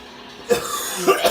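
A single person coughs in a short burst of two or three close, loud hacks in quick succession.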